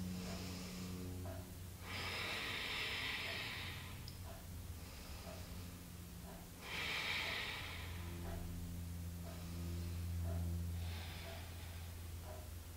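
Slow, deep breaths during a shoulder stretch, three long airy exhales spaced a few seconds apart, close and quiet with no talk.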